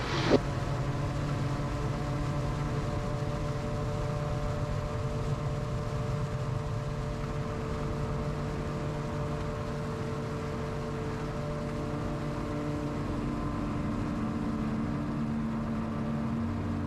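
A gyroplane taking off from a soft runway, its engine holding a steady droning hum with strong tonal harmonics. The sound is fairly quiet and continuous, with no talking.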